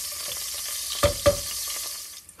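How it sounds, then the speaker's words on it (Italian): Garlic and chili pepper frying gently in hot oil, a soft steady sizzle with two brief louder clatters near the middle, close and with no one speaking. "L'olio è caldo, allora caliamo aglio e peperoncino. Facciamo soffriggere appena un po'"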